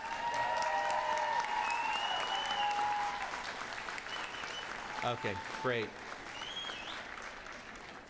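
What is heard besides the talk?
graduation ceremony audience applause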